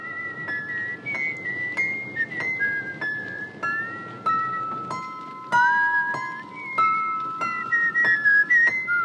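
A clear whistled melody in an Ingmar Bergman film score glides and wavers over sparse, out-of-tune piano notes struck one by one, soft and musical.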